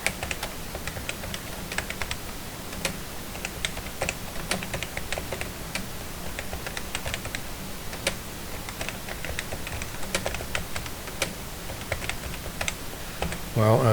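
Steady computer keyboard typing, quick irregular key clicks running throughout at close range, with a brief louder noise right at the end.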